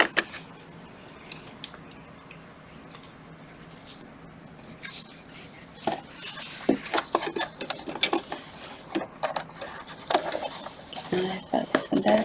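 Sewing machine top stitching fabric, starting quiet and then running in short rattling bursts with fabric rustling and handling noises, close up, with no voices.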